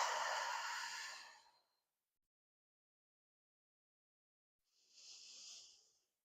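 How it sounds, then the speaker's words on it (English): Two deep breaths out during a yoga session, the first a long, strong exhale and the second a shorter, airy one a few seconds later after a pause of silence, close and breathy with no talking. "Take deep breaths while you're doing this."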